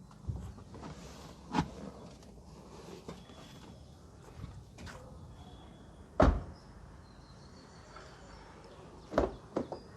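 A 2018 Maruti Suzuki Dzire VXI AMT door is handled in a quiet setting, with a few sharp clunks and latch clicks spread apart over faint background ambience.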